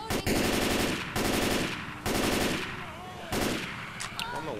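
Automatic gunfire in Left 4 Dead 2 during the co-op Sacrifice finale, loud rapid bursts in several strings with brief gaps, under faint game noise.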